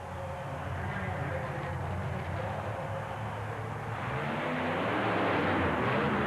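Monster truck engine roaring at full throttle off the starting line at a 1991 USHRA event in Worcester, a steady loud rumble that swells toward the end over crowd noise and an announcer talking.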